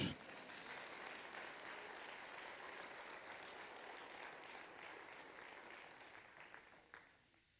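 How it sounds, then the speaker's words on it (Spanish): A church congregation applauding during a sermon, a sustained wash of clapping at moderate distance that fades near the end. "Dale un aplauso al Señor."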